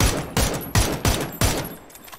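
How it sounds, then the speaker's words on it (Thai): Gunfire in the battle royale game PUBG, four loud single shots spaced at a steady pace with short ringing tails, close and heavy, then a fading echo and no speech. "ยิงทีละนัดไม่ค่อยโดนยิงจนกระสุนจะหมดเลย"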